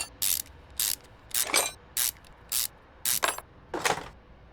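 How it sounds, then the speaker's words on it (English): A ratchet clicks in about eight short, evenly spaced bursts while removing a turbocharger in Car Mechanic Simulator, crisp and close with near silence between strokes. "Let's get the turbocharger off."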